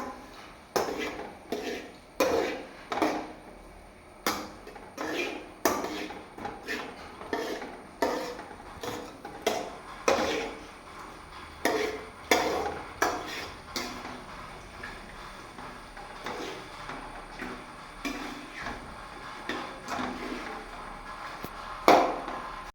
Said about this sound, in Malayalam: വേവുന്ന വരെ നമുക്ക് ഇത് മിക്സ് ചെയ്തുകൊണ്ടിരിക്കാം